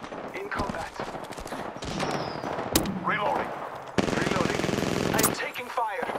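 Automatic weapon fire in an Apex Legends match comes in rapid bursts and sharp single cracks, with a heavier sustained burst toward the end, under an in-game voice calling out.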